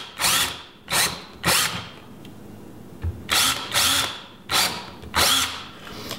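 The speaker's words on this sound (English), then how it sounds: "Next, I'm using my drill to put some pilot holes here" A power drill buzzes in a series of short, loud bursts, about seven in a row, close up with brief pauses between each, drilling pilot holes in wood for a tiny house Dutch door.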